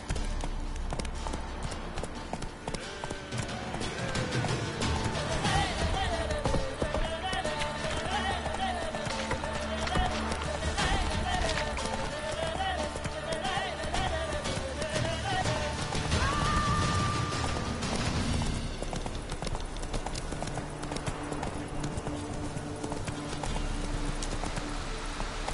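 Roach the horse gallops in The Witcher 3 on PS4, steady rhythmic clip-clop hoofbeats running continuously at close range, with a brief whinny and game music and effects layered underneath.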